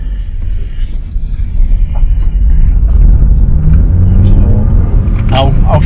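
A 2017 Nissan X-Trail drives along a road, heard from inside the cabin as a steady, loud low rumble of road and engine noise that builds slightly, with a voice present at times.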